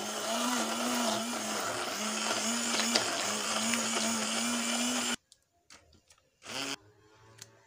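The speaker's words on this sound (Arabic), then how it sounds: "غادي نعاود نطربو" Electric hand mixer beating chocolate cake batter, a steady whirring drone with a clear motor tone that runs for about five seconds, then cuts off into quiet with a short burst of mixing near the end.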